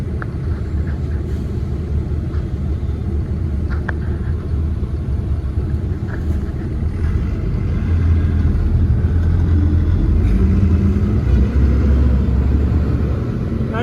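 Heavy traffic stalled on the Bharuch to Kim highway, with a steady low rumble of idling car and truck engines that swells slightly louder partway through, continuous and close, with no talk.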